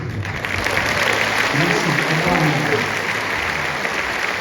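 A concert crowd at a tribute concert applauds loudly and continuously, a thick wash of clapping that barely shifts in level while a voice briefly speaks over it.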